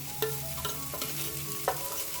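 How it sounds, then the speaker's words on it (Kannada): Aubergine masala being stirred and fried in oil, with steady close sizzling broken by several distinct scraping stirs of the spoon against the pan; no voices. "ಈ ಥರ ನೀಟಾಗಿ ಇದು ಎಣ್ಣೆಯಲ್ಲಿ ಫ್ರೈ ಮಾಡ್ಕೊಳ್ಳೋಣ"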